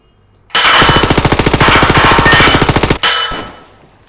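An MP5A2 submachine gun in the ROBLOX game Deadline, fitted with a Noveski-style muzzle brake, fires one loud sustained burst of rapid, evenly spaced shots lasting about two and a half seconds. A short mechanical tail and fading echo follow.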